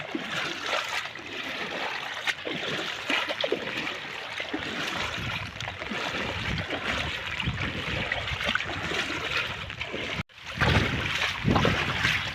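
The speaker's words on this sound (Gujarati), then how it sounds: "જે વાડી તરફ જાય છે તે કાદીમાં પણ પાણી ભરપૂર માત્રામાં આવી રહ્યું છે" Floodwater from 6.5 inches of rain in 48 hours rushes along a muddy channel leading toward farmland in Jantrakhadi village near Kodinar. It makes a steady, loud, close wash of flowing water throughout, with a brief dip near the end and no talking.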